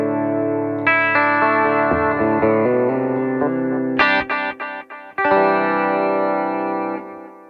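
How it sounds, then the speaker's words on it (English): Electric guitar run through a Solid Studio MKII into a Fender Deluxe Reverb amp, with clean sustained chords and ringing single notes, some choppy strums in the middle, played alone with a light chorus and reverb sheen. "we'll go straight from the guitar through all of this, but nothing here is engaged, just the Solid Studio MKII and a Deluxe Reverb"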